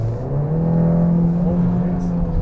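The four-cylinder engine of a new Kia Sportage drones steadily, its low hum swelling slightly as it revs, heard from close by.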